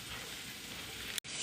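Food sizzles steadily in a hot pan while being stirred, a continuous close frying hiss with a brief cut near the end; no talking.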